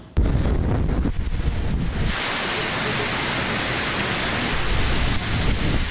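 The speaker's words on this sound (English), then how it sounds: "From heavy rain to howling wind, strong enough to almost knock us over." Hurricane-force wind roars steadily and loudly across an exposed microphone, a broad rushing gust that swells and buffets without pause, with heavy rain mixed into the blast.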